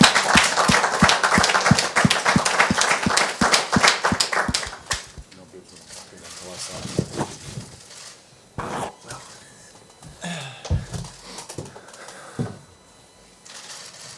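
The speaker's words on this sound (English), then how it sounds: "I'll give you a round of applause, mate." A live audience claps in a warm round of applause for rugby player Sonny Bill Williams at a Toronto Wolfpack unveiling, dense and loud for about five seconds, then fading into scattered claps and murmurs.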